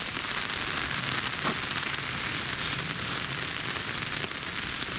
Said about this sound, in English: It's raining 10 times harder than before.